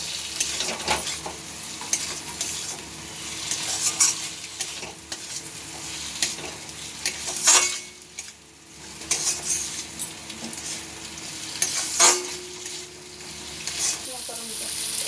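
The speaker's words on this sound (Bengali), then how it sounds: "এবার এর মধ্যে আলুগুলো দিয়ে একটু কষিয়ে নেব।" Potatoes being stir-fried in an oil-rich spice paste for a bitter gourd and potato sukto, with a continuous close sizzle and repeated metallic scraping and clanking of a spatula against the pan.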